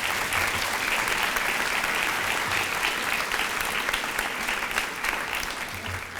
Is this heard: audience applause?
yes